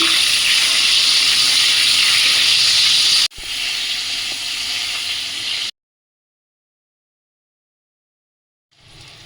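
Potato and papaya pieces fry in oil, giving a loud, even sizzling hiss that is cut once and resumes more quietly, then stops into silence before a faint return.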